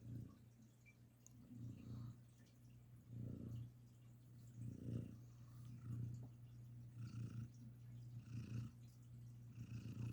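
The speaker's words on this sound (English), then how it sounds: "Let's see if they can hear you purr." A pet cat purring steadily up close in a quiet room, a low continuous rumble with gentle rhythmic swells from each breath, alone without any talk.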